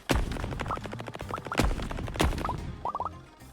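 Dynamite explosions in the mining video game Diggin, a rapid series of sharp cracking blasts with scattered debris clicks and chimes between them, loud and close.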